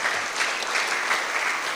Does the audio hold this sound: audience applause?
yes